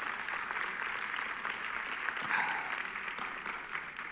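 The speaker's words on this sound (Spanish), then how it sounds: "Denle un fuerte aplauso al Señor." A church congregation gives a strong round of applause at an evangelistic service, a sustained, even roar of many hands clapping with a faint bright hiss over it, alone and without speech.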